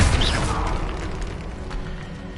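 A Confringo blasting spell detonates in Hogwarts Legacy, a short booming burst near and loud at the start that decays into a rumbling tail.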